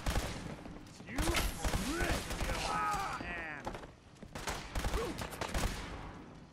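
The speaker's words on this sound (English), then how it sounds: "I hear either a gun or a turret." Gunfire in the video game Fallout 4, a rapid fusillade of shots and mechanical clanks, with a person talking over part of it.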